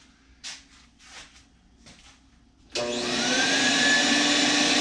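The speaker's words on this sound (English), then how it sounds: "So I'm using this Rincon vacuum that I bought years ago as my first dust collection system" A few quiet knocks and shuffles give way to a Rincon shop vacuum used as workshop dust collection, which starts up abruptly and runs loud and steady with a high whining roar.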